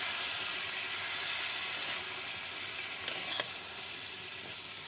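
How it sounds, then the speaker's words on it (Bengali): Boiled pointed gourd (potol) fries in oil with salt, turmeric and chili powder, giving a continuous, steady sizzle and hiss close up, with faint stirring and no talking. "এই পটলগুলো এখন নেড়ে চেড়ে একেবারে ভাজি ভাজি করে নেবে"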